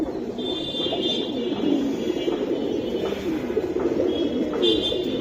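Giribaz pigeons coo softly in a group nearby, low repeated throaty calls with a faint high buzzing tone in the background.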